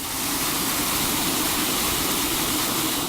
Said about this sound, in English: I'm going to start by filling one with just clean water.